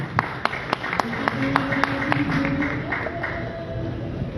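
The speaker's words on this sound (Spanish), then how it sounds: "Les pido un aplauso para la doctora Yaye Arellanes Cancino" Scattered, sparse hand claps from an audience at a book presentation in Morelia as a woman researcher is introduced, individual claps sounding unevenly under ongoing voices and room murmur.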